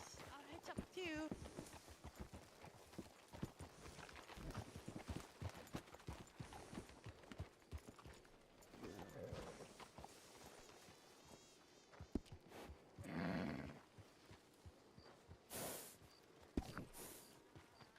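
Horse hooves clip-clop and a snort from a horse in a video game as it is hitched up, faint and intermittent under game noise and scattered sounds.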